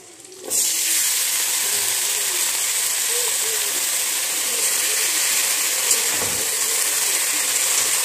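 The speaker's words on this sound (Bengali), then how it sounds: "দেখো আমার রসুনটাও একটু ভাজা ভাজা হয়ে গেছে, এখন আমি এটাতে লতিগুলো দিয়ে দিচ্ছি" Taro stolons tipped into a pan of fried garlic set off a sudden loud, steady sizzle that holds evenly for several seconds, close and without speech.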